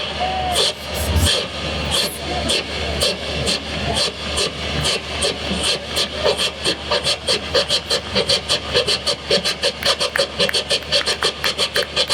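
A voice imitates a coal-fired steam train engine starting up, with rhythmic breathy chuffs that start slow and steadily speed up.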